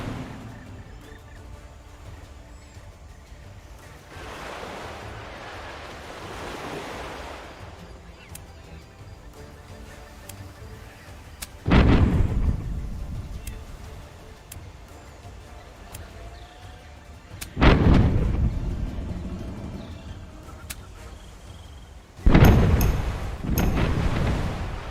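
Gunfire in the pirate game Tortuga: A Pirate's Tale, with three loud booming shots spaced several seconds apart over a low rumbling background and softer swells of noise between them.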